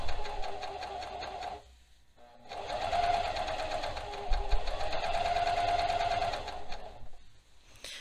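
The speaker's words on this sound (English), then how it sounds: "you're just sewing like you would normally." Sewing machine stitching a hem on a top, running in two steady bursts of rapid needle chatter separated by a brief pause, close and clear.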